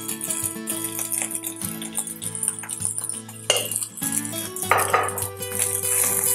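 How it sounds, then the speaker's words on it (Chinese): A metal spatula scrapes and clanks against a wok while egg fried rice is stir-fried and seasoned, giving quick metallic knocks and clinks over a faint sizzle. "就是翻炒一下"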